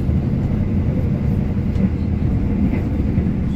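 Steady, loud rumbling roar of an Indonesian passenger train on the Jakarta–Yogyakarta route running at high speed, continuous wheel and rail noise with no pauses or voices.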